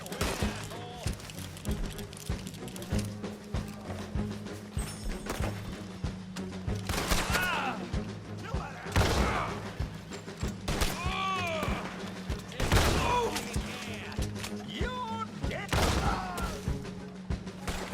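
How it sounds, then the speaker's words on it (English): Shotgun or rifle fire in the Western multiplayer game Red Dead Online, with repeated sharp booms spaced a few seconds apart amid game noise and a low steady hum, while players talk over the action. "Are you using your shotgun or your rifle?"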